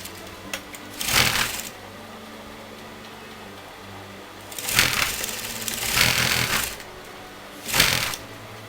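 Short bursts of a sewing machine stitching lace onto fabric come in four separate runs, close and fairly loud, with near-silence between them.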